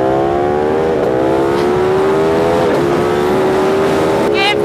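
A Ducati Panigale V2 motorcycle accelerates hard, its loud engine note climbing through the gears in rising sweeps with brief shift dips, close and continuous, with voices faintly over it.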